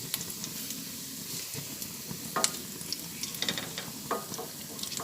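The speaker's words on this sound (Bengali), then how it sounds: "একদম গ্যাসের ফ্লেমটা কমিয়ে নিয়ে চালটা আমি ভেজে নিলাম" Gobindobhog rice frying over a low gas flame, a soft, steady sizzle with light scraping stirs and small crackles, fairly quiet and close, with no voices.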